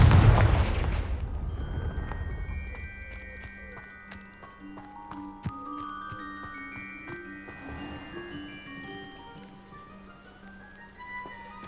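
A Confringo fire spell explodes in Hogwarts Legacy, a video game: a single heavy, close blast opens the sequence, then tonal, chiming game effects and scattered small clicks ring out as the sound fades.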